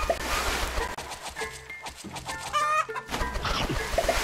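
Chickens cluck in the Egg Farm video game, with repeated short fowl calls and clucks over a busy game soundtrack, moderately loud and continuous with no speech.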